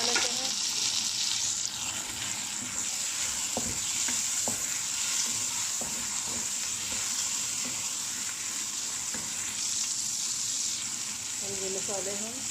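Tomatoes and green chillies fry with onions in a pan, a loud steady sizzle running throughout with a few clicks of stirring and scraping, with no talking.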